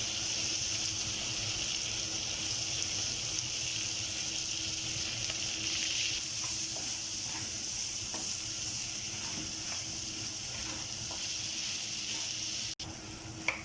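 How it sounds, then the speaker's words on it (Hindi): Chicken franks fry with a steady close sizzle in a pan while spices are stirred in with a spoon, the hiss continuous throughout, faint utensil taps scattered through it and a sharp knock near the end. "ये अभी जो स्पाइसेस मैंने डाले थे उनको मैं अच्छी तरह से मिक्स कर रहा हूँ और साथ साथ चम्मच जो है वो मैं हिलाता जाऊँ"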